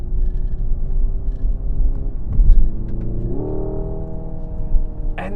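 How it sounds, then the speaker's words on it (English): Hyundai Ioniq 5 N electric car driving with simulated engine note and fake gear shifts, a steady synthetic rumble that steps up in pitch partway through, loud and close from inside the cabin. "I can't get around the fact that it changes gears which are not there."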